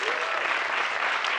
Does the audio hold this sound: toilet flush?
no